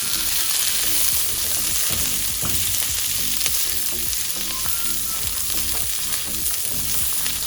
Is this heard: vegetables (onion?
yes